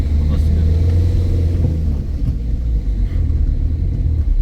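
A car climbing a steep hill road in first gear near Panchalimedu, Idukki, Kerala, producing a loud, steady low engine rumble throughout from inside the vehicle.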